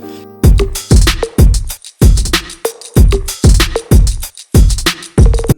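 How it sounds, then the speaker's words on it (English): A punchy electronic drum pattern programmed on the Logic Pro X step sequencer, with sharp kicks and snappy hits in a steady repeating groove, loud and clear with no talking. "make our entire beat using their absolutely new fresh step sequencer"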